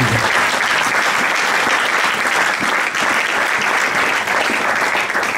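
Church congregation applauding and cheering in praise during a French-language sermon, a loud, steady wall of clapping sustained throughout with no pause.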